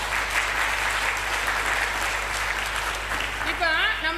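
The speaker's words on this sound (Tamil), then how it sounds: "எல்லாரும் ஒரு கைத்தட்டுங்க ஐயா" An audience at an astrology gathering claps steadily for about four seconds, a dense continuous patter of hands, with a voice beginning to speak over the end of it.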